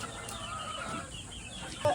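Chickens, including Black Kelso gamefowl in a breeding area, cluck softly and continuously in the background, a low farmyard murmur with a slightly louder call near the end.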